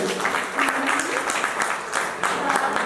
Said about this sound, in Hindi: एक बार तालियां बजा दीजिए सभी के लिए